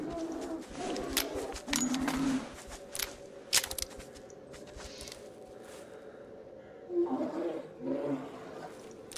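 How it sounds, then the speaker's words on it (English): Grizzly bear in the hunting game The Hunter Classic roaring during an attack, several loud growling bursts early on and again near the end, with bird calls in the background. "Another grizzly bear attack."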